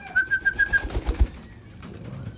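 Racing pigeons in free flight at dusk, a rapid series of soft wing claps and flutters sounding close, followed by quieter fading rustle.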